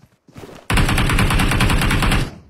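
A video game's automatic gunfire rattles in one loud, continuous burst of rapid shots lasting about a second and a half, following a quieter lead-in.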